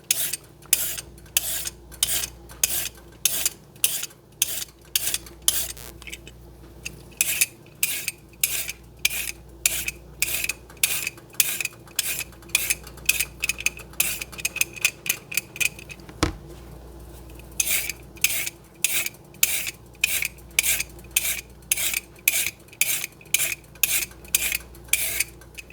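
Carrots being peeled for a Swiss chard and white bean soup: a steady run of quick, crisp rasping strokes repeats in even bursts, with a short pause partway through and a single sharp knock near the middle.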